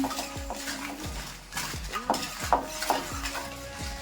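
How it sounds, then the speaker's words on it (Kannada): Byadagi red chillies dry roasted in a pan without oil, with a spoon scraping and stirring in an irregular rhythm, a few metallic clinks against the pan and a faint sizzle underneath. "4 ಬ್ಯಾಡಗಿ ಮೆಣಸಿನ್ಕಾಯಿ ಹಾಕ್ತಾ ಇದೀನಿ. ಇದನ್ನ ಸ್ವಲ್ಪ ಹುರ್ಕೊಳ್ಳೋಣ."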